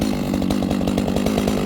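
A chainsaw cuts into a tree with a loud, close, steady buzz. The motor pulses rapidly and evenly throughout, and no one speaks.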